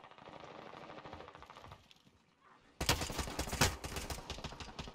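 Rapid automatic gunfire from an Owen Gun-equipped squad firing in the shooter Warzone, with steady bursts early, a brief lull, then a loud dense volley of shots crowding close and continuing to the end.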